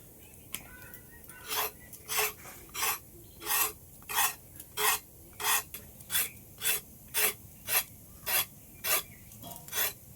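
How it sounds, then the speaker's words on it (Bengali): Snake gourds worked by hand in a home kitchen, a regular series of about a dozen rasping, scraping strokes against the vegetable, close and evenly spaced, with no talking. "এই চিচিঙ্গা দুটো এবার আমি কেটে নেব"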